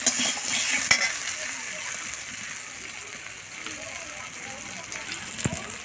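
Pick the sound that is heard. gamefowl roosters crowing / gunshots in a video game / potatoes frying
potatoes frying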